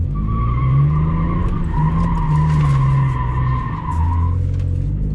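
An automatic Lexus IS300 spins donuts, its tires letting out a loud continuous squeal over a steady engine drone that wavers in pitch as it circles, close by and uninterrupted.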